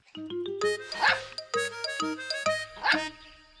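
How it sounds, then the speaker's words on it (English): A cartoon dog barks with joy in a string of bright, yappy barks and yips, several quick calls in bursts over light background music. "Snuffy jumped up again and barked with joy."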